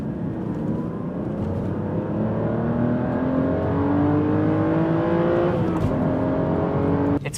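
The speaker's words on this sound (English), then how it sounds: "along with the sound it makes, it's one of the most turbine-smooth, glorious engines I've ever driven behind" Aston Martin DBS engine pulling steadily while driving, a smooth, continuous drone with harmonics that climb gradually as it accelerates, loud and close from inside the car, then easing off briefly near the end.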